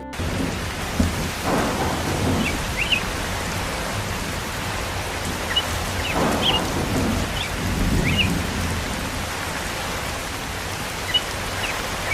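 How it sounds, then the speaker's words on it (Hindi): A cartoon thunderstorm with steady heavy rain hissing and wind, plus low rumbles of thunder rolling through at intervals, and no voices. "देखो ये कैसी बारिश और हवाएं चलने लगी"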